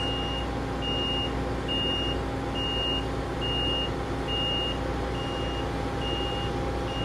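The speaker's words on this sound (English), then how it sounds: "So just backing her off the trailer now." A wide vehicle reverses off a trailer, its reversing alarm beeping in an even, repeating rhythm over a loud, steady engine rumble, close by.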